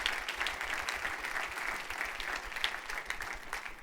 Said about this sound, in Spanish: Dele un fuerte aplauso al Rey de la Gloria.